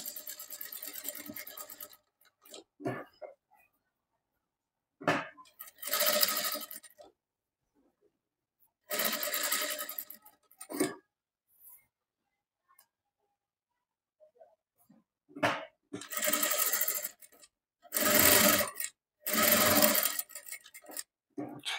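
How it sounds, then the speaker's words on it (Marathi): A sewing machine stitches a padded blouse in short, uneven bursts separated by silences while the fabric is turned, close and moderately loud. "कपडा फिरवा आणि पुन्हा शिलाई मारायला सुरुवात करा"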